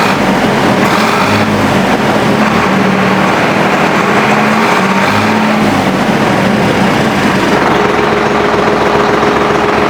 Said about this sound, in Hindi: अभी आप लोग यहाँ पर देख सकते हैं ये जो ट्रैक्टर है इसकी आवाज़ कुछ आपको कुछ तरीके से